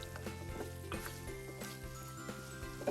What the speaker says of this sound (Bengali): চুলার আঁচ কমিয়ে আমি ভালো মতো করে 2 মিনিট আলুর সাথে মশলাকে কষিয়ে নিলাম।